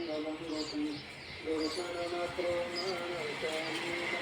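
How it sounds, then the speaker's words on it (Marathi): Morning birds chirp and coo around a home, light calls scattered faintly through the background beneath a person's voice. "बघा किती मस्त पक्षी आवाज करताय बघा"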